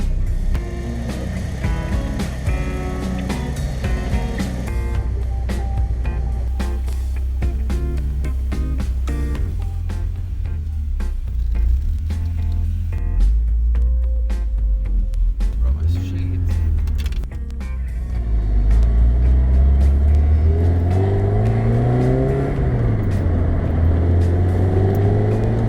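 A classic Porsche 924S, newly fitted with a fuel pump, runs close by with a low, steady rumble, rising in a few revs toward the end while a person talks over it.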